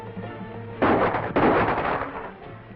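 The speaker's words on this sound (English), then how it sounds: "Rifle shot." A rifle shot in a 1937 jungle adventure serial: two sharp, loud blasts in quick succession with a short rumbling tail, on a muffled old soundtrack.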